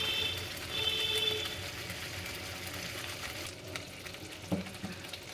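Ground Kashmiri chilli, coriander and cumin are stirred and fried in hot oil, a moderate continuous sizzle with soft scraping and a brief clatter toward the end.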